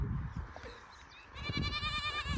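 Sheep and goats kept at a village home bleat repeatedly, one clear wavering cry rising over a background of several animals calling, fairly close and moderately loud.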